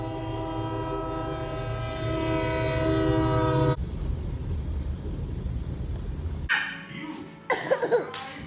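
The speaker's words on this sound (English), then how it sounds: "The stupid train." A passing train sounds a long, steady horn blast for several seconds, then its rumbling cars roll by, and people talk and shout close by at the end.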